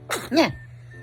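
A single sharp sneeze, close and fairly loud, a quick burst followed by quiet with a faint hum in the background.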